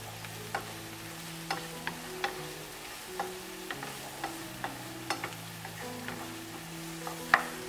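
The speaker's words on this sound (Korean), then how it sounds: "자, 볶기 시작합니다." Chopped peppers, bell peppers and onion being stir-fried in a pan for Napolitan pasta, a soft steady sizzle with regular light clacks of the utensil tossing the vegetables.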